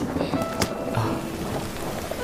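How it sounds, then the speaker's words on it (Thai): Steady rain falls at night in an outdoor city scene, a dense, even hiss that runs the whole time with no voices over it. "ฝนตกแล้ว"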